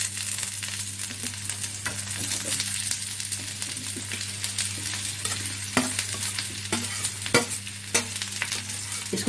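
Boiled potatoes with onions and green chilies being sautéed and stirred in a pan over a high flame for dosa stuffing: a steady, close sizzle with frequent scraping stir strokes and a few sharper clinks.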